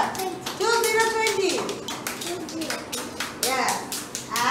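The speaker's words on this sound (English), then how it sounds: "A big clap for" Children and adults clap together in a preschool counting lesson, a burst of sharp hand claps mixed with an adult's sing-song voice and children's voices over it.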